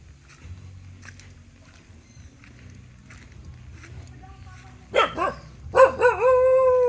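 A dog barks and howls at close range near the end, loud sharp barks followed by a rising, sustained howl, after a stretch of low rumbling background and faint movement noise.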